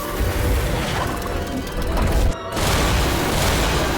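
A dense, roaring blast of noise from a magic explosion in an anime fills the clip, loud and continuous, broken by a brief dip in the middle before the rumbling resumes.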